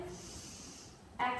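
A single audible breath drawn in through the nose during a guided mindfulness movement class, soft and close, followed right away by a voice beginning to speak.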